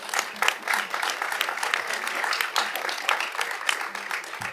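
Audience applause at a city commission meeting honoring local school representatives, with a steady patter of clapping across the room mixed with some voices.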